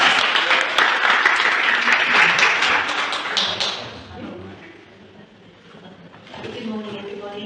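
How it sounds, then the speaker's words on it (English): A church congregation at a Sunday service claps together in a loud dense burst that fades out midway, followed by quieter sounds and faint voices. "Clap your hand for Jesus Christ."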